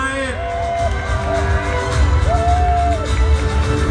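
A crowd at a Thai fresh-market pageant's men's swimsuit and loincloth round whoops and cheers loudly, with shrill whistles and rising shouts over steady babble, close and continuous.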